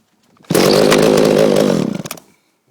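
John Deere 25EV chainsaw, an old saw pulled from a crusher pile with a cleaned carburetor, cold-starting: the engine catches abruptly and roars loud and close for about a second and a half, then sputters out.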